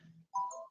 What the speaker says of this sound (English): oh, my phone is beeping